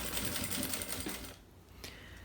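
Sewing machine stitching down a seam on a travel toiletry organizer with plastic-lined fabric, a steady fast mechanical whir for just over a second that then stops, leaving faint room noise.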